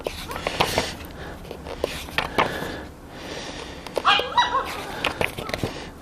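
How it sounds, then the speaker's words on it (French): A neighbour's dog barks and yips at moderate distance in short, irregular bursts, with a few whimpering notes scattered across several seconds and no one talking over it. "Merci au chien du voisin de se manifester."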